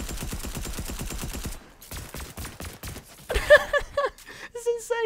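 Rapid automatic gunfire from a gun in the video game Fortnite bursts out in quick repeated shots, then breaks into scattered shots and short mechanical clicks.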